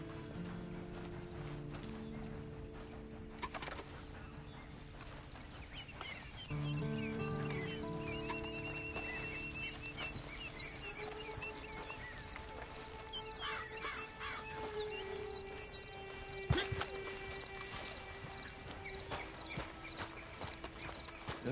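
Horse hooves clip-clop at a slow walk in Red Dead Redemption 2, fairly faint under game ambience, music and scattered mechanical and bird sounds.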